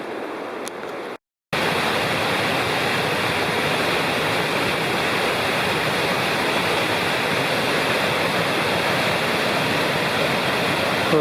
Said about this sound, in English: Here's a nice section of whitewater with a big black bluff on the other side.